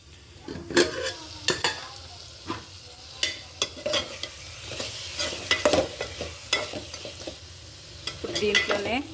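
Okra curry is stirred in a pan, with repeated close scraping and clinking strokes of a spoon over a low, continuous sizzle.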